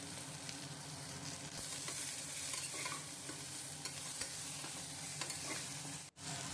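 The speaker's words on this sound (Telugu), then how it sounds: "వాటిని వేసుకొని దాంట్లో కొద్దిగా ఎర్రగడ్డ, తెల్లగడ్డ పాయలు వేసుకొని వాడ్చుకుందాం" Okra sautéed in a pan with chili powder, green chilies, onion and garlic gives a steady, close sizzle with repeated stirring scrapes, ending in a brief sharp dropout near the end.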